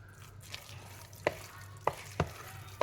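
Minced chicken kofta mixture being stirred and worked in a bowl, with soft wet mixing sounds broken by a few sharp, quiet clicks and knocks of a spoon or hand against the bowl, alone with no talk.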